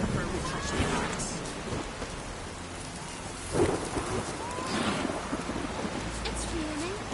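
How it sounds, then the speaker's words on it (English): Steady rain and rumbling thunder in the medieval fantasy game The Witcher 3, a continuous wash of rainfall with a louder thunder swell midway and faint distant rumbles. "It's raining."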